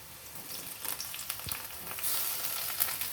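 Chopped tomato hits browned onions in a hot pan while cooking chicken rasa, bringing a quiet, continuous sizzle with scattered crackles and soft clicks that swells slightly toward the end.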